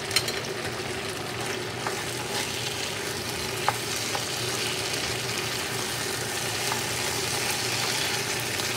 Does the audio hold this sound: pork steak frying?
yes